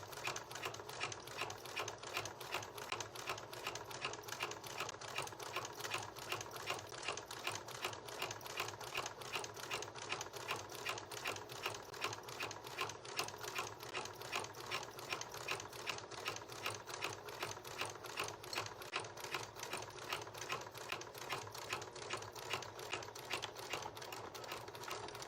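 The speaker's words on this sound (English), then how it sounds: "You're going to sew it wrong sides together with a 5/8 inch seam allowance." A home sewing machine runs steadily for a long stretch while stitching a curved flat felled seam in fabric, with a fast, even mechanical clatter throughout and no talking.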